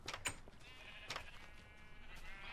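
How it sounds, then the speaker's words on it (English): Sheep bleat in a large sheep farm inside the Minecraft video game, a few short, fairly clear bleats spaced apart over a faint background hiss. "It's just a massive sheep farm."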